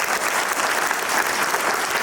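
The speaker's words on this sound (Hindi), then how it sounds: "जोरदार तालियां।" A school audience breaks into loud, sustained applause, many hands clapping together in a thick, continuous roar for the whole moment.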